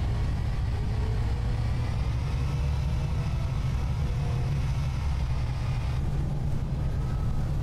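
Wrights Eclipse 2 bus in the OMSI 2 simulator, its engine droning steadily with a heavy low rumble and a faint rising whine as it pulls away, continuous and fairly loud, no speech.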